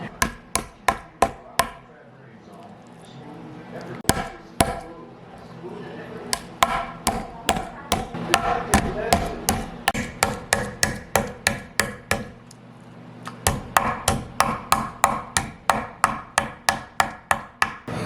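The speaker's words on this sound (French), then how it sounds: "je vais prendre le marteau. Je vais juste aller aplatir le poulet." Textured meat mallet pounding raw chicken flat on a kitchen surface, a long series of sharp, rhythmic thuds in quick bursts with short pauses, close and loud throughout.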